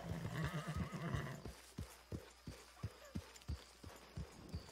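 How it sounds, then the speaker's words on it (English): Horses in the Red Dead Redemption 2 video game give a loud whinny, followed by a steady rhythm of clip-clopping hooves at close range. "Look at all these horses we have here."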